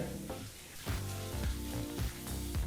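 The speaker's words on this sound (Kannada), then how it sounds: "ಒಂದು ಟೇಬಲ್ ಸ್ಪೂನಷ್ಟು ಉದ್ದಿನಬೇಳೆನೂ ಸಹ ಹಾಕಿ ಒಂದು ಮೂವತ್ತು ಸೆಕೆಂಡ್ಗಳ ಕಾಲ ಇದನ್ನೆಲ್ಲ ಬಿಸಿಯಾದಂಥ ಎಣ್ಣೆಯಲ್ಲಿ ಬೆರೆಸಿ ಬಿಸಿ ಮಾಡ್ಕೋಬೇಕಾಗತ್ತೆ" Chana dal and urad dal fry in hot oil with a steady, crackling sizzle, broken by soft, irregular stirring knocks in the pan.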